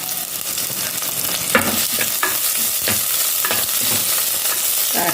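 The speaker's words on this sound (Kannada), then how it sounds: "ಸ್ವಲ್ಪ ಎಣ್ಣೆಯಲ್ಲಿ ಫ್ರೈ ಆದರೆ ಸಾಕು, ತುಂಬ ಫ್ರೈ ಆಗಬೇಕು ಅಂತಿಲ್ಲ" Onions and green chillies fry in oil, with a constant crackling sizzle broken by several scraping strokes of a spoon stirring the pan, close and clear with no talking.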